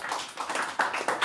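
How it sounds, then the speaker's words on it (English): Applause from a small audience at a blockchain tech talk, a short burst of uneven hand claps close by, sparse and choppy rather than a full roar. "Round of applause here for Pranay."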